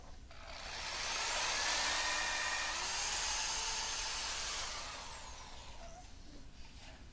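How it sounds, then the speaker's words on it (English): Steady whining power drill boring pilot holes into a wooden 2x4 for a slat bunkie board on a metal bed frame, one continuous run of several seconds rising and falling at each end, close and fairly loud. "So I pre-drill the holes."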